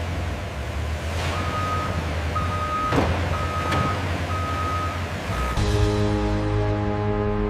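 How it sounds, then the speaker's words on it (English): Trucks loaded with freshly harvested sugarcane arrive at a large sugar factory. A reversing alarm gives several evenly spaced beeps over a rumbling diesel idle, and an air brake hisses midway. "trucks loaded with freshly harvested sugarcane arrive in a continuous flow"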